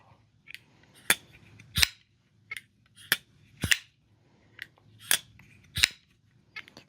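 Vero Engineering Avid 2 folding knife flicked open and shut, a string of about a dozen sharp, crisp clicks and clacks at an uneven rhythm, close up and alone in a quiet room.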